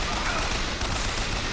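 Dense, continuous gunfire in the Bioshock Infinite video game, a loud unbroken wash of shots and noise filling the whole short moment.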